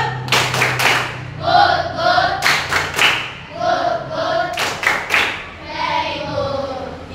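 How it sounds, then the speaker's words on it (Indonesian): A classroom of young children claps together in short, uneven bursts of sharp hand claps with soft thuds, while an adult voice and children's voices sound in the room. "Kita kasih dulu tepuk."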